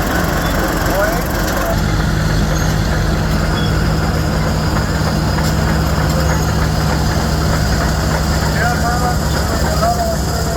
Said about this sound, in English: Another one through the 1957 Model 8 Caterpillar.